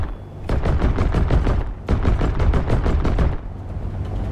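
In the War Thunder tank simulator, rapid automatic gunfire rattles toward the player's tank in two long, loud, continuous bursts separated by a brief gap.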